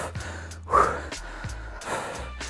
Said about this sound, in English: So sorry if I'm breathing too hard into this mic.